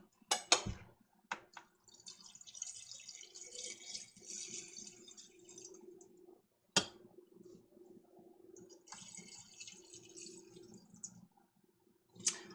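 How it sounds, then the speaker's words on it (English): Ham and bean soup ladled into glass canning jars, with repeated wet pours, drips and splashes, a few sharp clinks of the ladle against the glass, and a low hum underneath; no one talks. "I'm going to go ahead and just put a little bit more in each jar to equally distribute what I have left"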